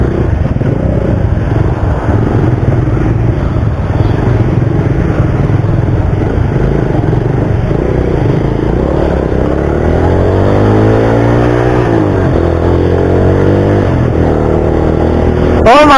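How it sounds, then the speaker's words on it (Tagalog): A Suzuki Raider R150 Fi motorcycle, just repaired after a stator screw came loose, idles loudly up close, then revs with rising, falling pitch sweeps before settling back. "Maandar na ulit mga sir yung motor natin."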